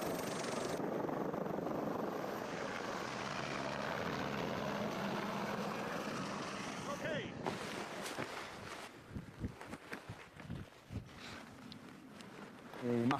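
A helicopter in the Lauterbrunnen valley climbs toward the Jungfrau summit at about 4000 metres, its engine and rotor roaring loud and steady from up close, then cutting to quieter wind and rotor thumps with scattered bumps.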